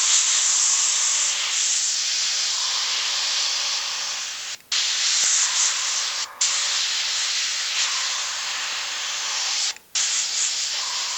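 An airbrush sprays high flow acrylic paint with a steady close hiss, stopping briefly three times between bursts.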